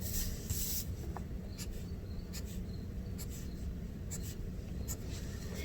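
Pencil or pen scratching slanted lines on paper for a radial dream catcher drawing, a quiet run of short rubbing strokes close up, faint and alone.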